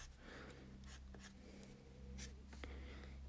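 A white pencil scratches short highlight strokes onto a pastel drawing of tulips, a dry scraping that comes in close, repeated bursts over a steady low hum.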